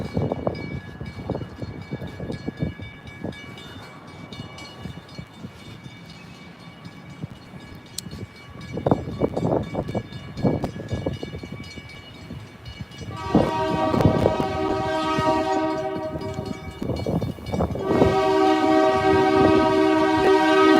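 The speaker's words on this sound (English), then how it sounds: "Here comes the train." Approaching train in a town, rumbling closer amid traffic noise before two long horn blasts sound, the first mid-clip and a louder second near the end.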